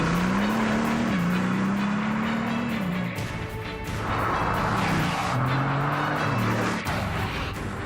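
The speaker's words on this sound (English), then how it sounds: "you can actually hear the unique sound of a Veyron before you see it" Bugatti Veyron with a 16-cylinder engine driving past, a loud rising and falling engine drone with pitch shifts as it passes and moves on, heard without talk.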